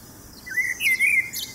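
Bright, chirping bird song from a single bird, a rising whistle followed by a trill of tweets, close and clear over faint background hiss.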